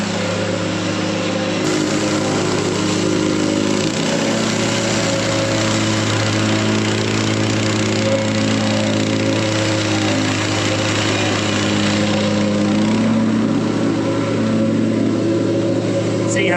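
Plate compactor pounding down gravel base ahead of below-grade insulation in a barndominium build, a loud steady engine drone with continuous rattling vibration running throughout, close by.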